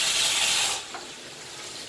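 A pressure cooker hisses steam loudly and close for under a second, then the hiss cuts out, leaving a quiet room with a couple of faint clicks.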